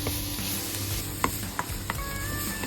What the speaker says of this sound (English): First, we saute the onions, and then we add the grated carrots.